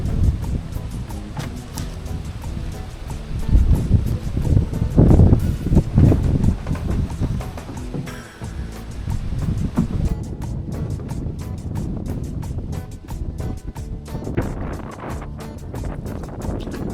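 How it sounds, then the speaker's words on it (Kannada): Strong wind buffeting the microphone on a small fishing boat out on the water, loud rumbling gusts rising and falling with the slosh of waves against the hull. "ಗಾಳಿ ಅಂತೂ ಫುಲ್ ಜೋರಿತ್ತು ಗೈಸ್"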